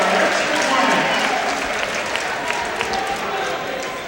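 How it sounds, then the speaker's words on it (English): Crowd in a high school gym applauding during a 1996 boys basketball quarterfinal, steady clapping and cheering spread through the stands, fairly loud and continuous, with a ball bouncing and faint talk mixed in. "He'll get a nice round of applause."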